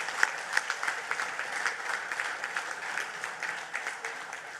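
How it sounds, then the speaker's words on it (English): A crowd at a party election event in Sangre Grande gives a steady round of applause, moderately loud with a few sharper claps and no talk. "we want to give him a round of applause for having been an outstanding chairman."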